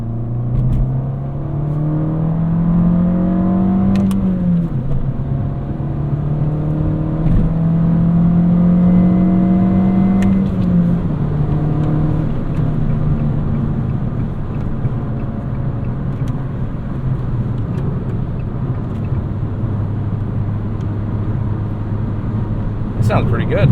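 A 2018 Fiat 500 Pop drives and accelerates, heard from inside the cabin as an engine drone rising through gears with a steady road rumble beneath, and someone speaks briefly over it.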